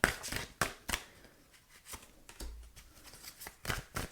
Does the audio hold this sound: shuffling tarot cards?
yes